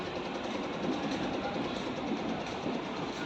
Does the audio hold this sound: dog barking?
no